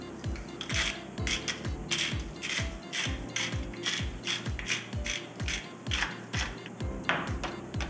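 Salt ground by hand from a grinder onto dorado fish, a close, steady series of sharp ratcheting clicks in a regular rhythm, repeating for several seconds without talking.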